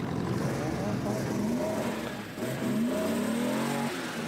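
A Mitsubishi Sapporo engine revs at a Japanese New Year car meet parade, its rising and falling pitch sweeping over steady crowd and traffic noise, loud and fairly close.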